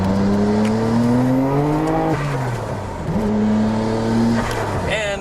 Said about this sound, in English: Just making sure we can get some RPM on here so you can see a little bit of the performance